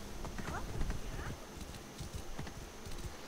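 Hooves clip-clop at a quick, irregular pace as a war horse gallops in a video game, mixed with game sounds and a voice talking over it.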